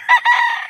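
A single loud, close rooster crow from an 11-month-old gamefowl, a short two-part call lasting under a second, with no talk over it.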